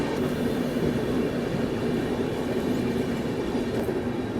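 The Tirupati–Jammu Tawi Humsafar Express departs on a parallel track, a loud continuous rumble of rolling wheels and rattling coaches close by, steady throughout and with no voices.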